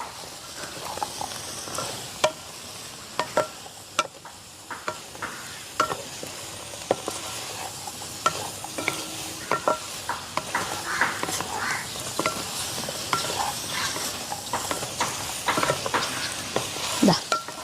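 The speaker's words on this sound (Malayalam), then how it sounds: "നമുക്ക് നന്നായിട്ട് ഇളക്കി കൊടുക്കാം." Fried tapioca pieces for chilli kappa are stirred in a sizzling pan, with repeated close scraping and clacking strokes of the spoon over a constant frying hiss and a soft voice now and then.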